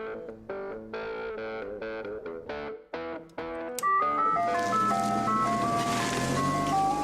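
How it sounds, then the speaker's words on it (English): An old-school ice cream truck music box jingle from Richfield, Minnesota: bright, plinking melody notes in a steady tune, then a louder, warbly chiming passage with a wavering, slightly distorted tone. "Ice cream truck vendors rely on some old school music boxes to build business."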